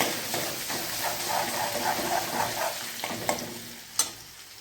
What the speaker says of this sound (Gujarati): અને જે આપણે આદુ લસણ અને મરચાં ખાંડ્યા હતા તે ઉમેરી દઈશું અને હળદર અને થોડીક વાર આપણે એને સાતળી લઈશું